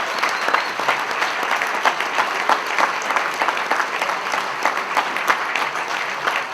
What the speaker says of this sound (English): I'd like to give a round of applause of gratitude for all the 2011 Keeping the Blues Alive recipients